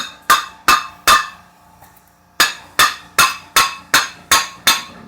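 Rubber hammer knocking the front wheel hub loose on a 1999-2004 Nissan Xterra 4x4: three sharp blows, a brief pause, then seven evenly spaced heavy knocks ringing close and loud.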